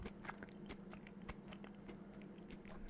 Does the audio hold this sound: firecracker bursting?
no